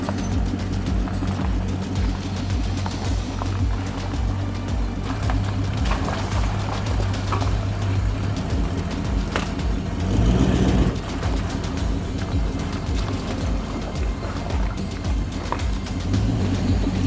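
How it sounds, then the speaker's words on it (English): A cruiser and other vehicles drive one by one through shallow rocky water crossings at night near Weeli Wolli Springs, Nullagine, as a steady low engine drone with a louder rumbling surge midway and no talk. "One by one, we crossed the shallow rocky crossings again."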